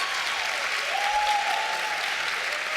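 Studio audience applauding steadily during a TV cast and co-creator panel conversation, a dense continuous wash of clapping held at an even level throughout, with a faint tone sliding through the middle.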